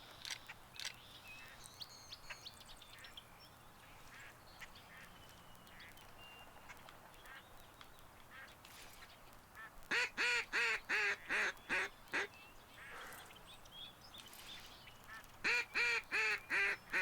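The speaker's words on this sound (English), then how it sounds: "I like how their duck calls work no matter what." Duck calls from the Duck Dynasty duck-hunting video game: faint scattered quacks and background bird sounds, then two loud bursts of rapid, evenly spaced quacking call notes, each lasting a couple of seconds.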